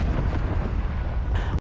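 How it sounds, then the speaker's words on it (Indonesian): A grenade explosion in a war film: a dense, sustained low roar of blast and rumble fills the whole moment, loud and continuous, ending with a brief sharp burst before cutting off. "ia telah berhasil menarik print granat yang berada di tangannya dan"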